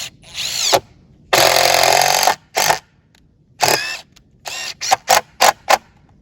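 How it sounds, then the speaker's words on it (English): Power drill driving a screw into a wooden shim, loud close whirring bursts that start and stop, one long run followed by several short quick pulses, alone without talk. "so I'm gonna try to put a screw in here."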